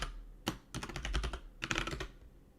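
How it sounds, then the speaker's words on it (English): Computer keyboard typing close up, in three short bursts of rapid key clicks with brief pauses between them and no one talking. "There's no way I'm this bad at typing, right?"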